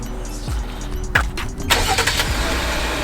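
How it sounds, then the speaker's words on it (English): A 2019 Jeep Grand Cherokee Limited starts by remote start: a brief starter crank, then the engine catches and settles into a steady idle, heard close with no talking. "And the car starts."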